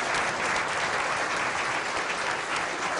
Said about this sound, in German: Wir haben noch nie so viele Leute gehabt, noch nie solchen Applaus.